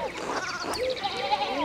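Sheep bleat in a pastoral scene from the video game Pentiment, several wavering cries overlapping at moderate distance with no talk.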